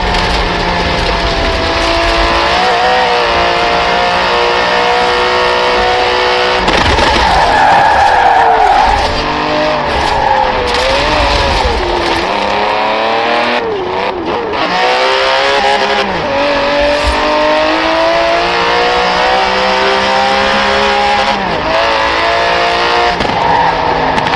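An Aston Martin DB11 in Forza Horizon 4 drives hard with a loud, continuous engine note that rises and falls, with tire skids and squeals across the run.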